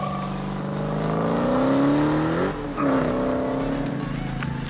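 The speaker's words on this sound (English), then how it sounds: "We're going to do another test hit just to see how it does with launch control." A Dodge Hellcat revs hard and accelerates on a launch control test run, its loud engine climbing steadily in pitch, then briefly dropping at a shift before pulling hard again, close and continuous.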